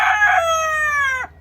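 A rooster crows once on a farm smallholding, a loud, close, drawn-out call that holds steady for over a second before breaking off sharply, heard alone with no talk.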